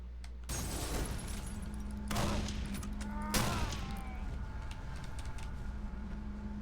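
Gunshots in the horror game Condemned: Criminal Origins, heard as a few loud separate cracks, each ringing out over a steady droning ambience.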